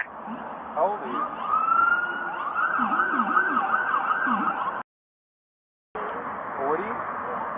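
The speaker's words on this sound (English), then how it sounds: "shortly, ambulance will be responding" Ambulance siren arriving at a roadside DUI crash scene, a wailing, sweeping tone cycling up and down, fairly close and steady, cut out briefly by a gap before resuming.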